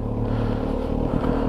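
A car fitted with a loud aftermarket exhaust system climbs a steep street in Hamburg, its deep, steady engine drone and exhaust rumble continuous and close throughout, with no talking.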